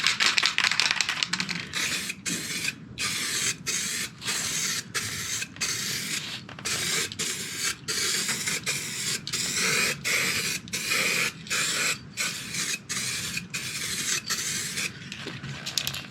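An aerosol spray paint can sprayed in many short, rhythmic bursts with brief gaps between them, close and fairly loud, while painting the exterior of a VW Caddy Maxi camper van conversion; no one talks.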